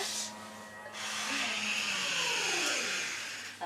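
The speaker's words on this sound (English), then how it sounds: "But check out that motor." An old lift motor running steadily, a smooth mechanical whir that rises in the first second and holds at moderate level, close by with no talk.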